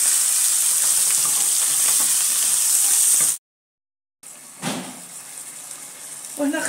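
Onion frying with chicken in a pan, a loud steady hissing sizzle that cuts out briefly, then resumes with a few stirring knocks.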